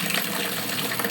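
Water pours steadily from a tap into a container being filled, a brief, even gushing splash with no voices over it.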